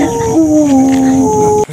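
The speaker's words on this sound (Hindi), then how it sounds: "कुत्ते भी भौंक रहे हैं" A dog lets out a long, wavering howl-like whine with a clear tone, close by, ending abruptly on a deserted road at midnight; no distinct barks stand out.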